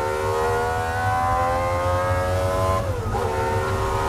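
A high-pitched Cosworth V12 engine screams at sustained high revs, its whine holding steady then dipping briefly as it shifts, loud and close.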